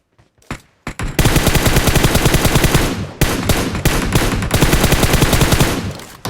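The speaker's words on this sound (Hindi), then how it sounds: "तभी मुझे पीछे से फायर आता है" Automatic gunfire in a shooting video game, a couple of short single shots and then long loud sustained bursts of rapid fire with a brief break, heard up close.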